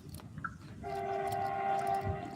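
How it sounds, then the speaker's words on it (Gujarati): At a railway station a train horn sounds as the train pulls in, a sustained tonal blast starting about a second in over low rumbling, moderately loud and with nobody talking. "અહીંથી ટ્રેન આવવાની છે"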